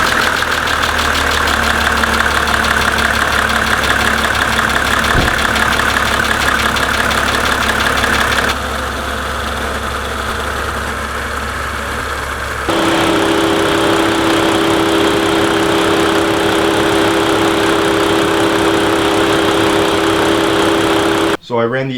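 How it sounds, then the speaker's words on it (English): A Mercedes-Benz W124 300TD diesel idles steadily with a close, continuous clattering rumble that shifts in tone partway through as the heater runs on full, ending with a brief knock. "I'm gonna go ahead and start the car, turn the heat on full blast"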